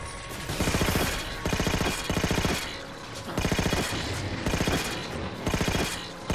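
A sentry gun in Halo 4 fires in rapid automatic bursts, loud and close, with about five or six stuttering volleys separated by short pauses and no voices.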